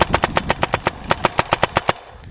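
An Azodin Kaos paintball marker with a Delrin bolt fires a rapid string of about twenty sharp, snappy shots in two quick bursts, close and loud, with no talking.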